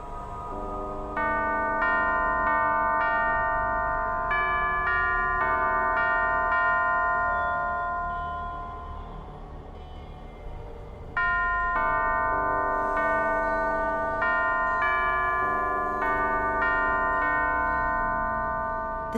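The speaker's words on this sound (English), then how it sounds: "Only by playing the correct sequence of bells can it be opened." Bell chimes from Alice: Madness Returns ring out in a melodic sequence of bright, sustained tones, played as two phrases separated by a brief lull, loud and clear with no talking.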